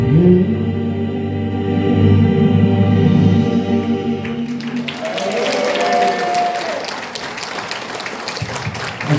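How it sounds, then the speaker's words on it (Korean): At a worship concert, sustained music gives way midway to a crowd breaking into applause, a dense, steady clapping that continues to the end. "한번 하나님께 영광의 박수"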